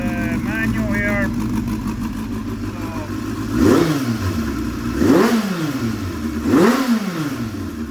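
A Suzuki GSX-R 750 sport motorcycle idles, then its engine is blipped three times in quick succession, each rev rising and falling sharply, heard up close with a person talking at the start.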